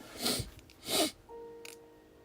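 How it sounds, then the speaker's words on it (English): A single sharp human sneeze, loud and close, preceded by a sharp inhale burst, followed by a faint steady electronic tone in a quiet room. "Sorry, I have a stuffy nose now that I sneezed."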